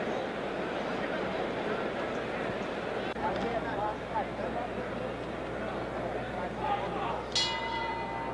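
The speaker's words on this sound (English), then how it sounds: "The bell for round two." A boxing ring bell clangs once near the end to start round two of the 1972 Muhammad Ali vs Floyd Patterson fight, rising over a steady crowd murmur and someone commentator talking throughout.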